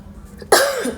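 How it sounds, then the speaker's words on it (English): A woman coughs once, sharp and close, after a quiet stretch while straightening her 4C kinky hair with a flat iron that gives off fumes. "They keep making me cough."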